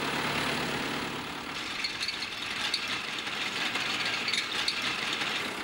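A borrowed tractor's engine runs at a steady idle outdoors, a low continuous rumble with light rattling, moderately faint and with no talk.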